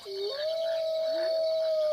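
A single dog howls in a long, wavering tone that rises and holds steady, clear and fairly close, with no other sounds around it.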